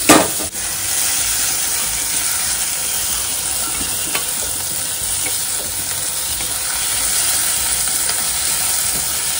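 Onion fries in oil until golden brown, a loud, continuous close sizzle with faint stirring scrapes running through it.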